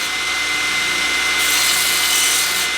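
Steel washers are ground down on a 2x72 blacksmith belt grinder, giving a loud, continuous abrasive hiss and roar that brightens partway through as the contact pressure changes. No one speaks.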